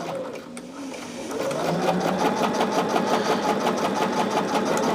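Sewing machine stitching quilt pieces with a scant quarter-inch seam, a steady rapid mechanical whirring that picks up speed after a moment and runs on close and continuous.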